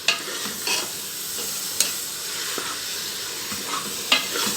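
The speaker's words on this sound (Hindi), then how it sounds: "कीमा मैंने इसके अंदर ऐड कर दिया है, इसको कुछ देर फ्राई कर लेते हैं।" Minced meat fries with golden onions in a pan, sizzling and hissing steadily and softly while a spoon stirs it, giving occasional sharp scrapes and clinks, close by with no voices.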